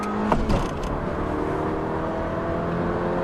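A stock 2017 Honda Civic EX-T accelerates on a quarter-mile run, its engine holding a steady, rising drone heard from inside the car after a few brief knocks at the start.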